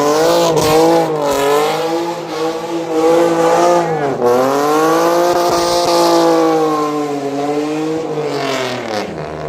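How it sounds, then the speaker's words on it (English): Powerful cars rev and drive at a nighttime London car meet, with loud, sustained engine roar rising and falling in pitch as they accelerate nearby, continuous throughout. "We're going to watch all the cars."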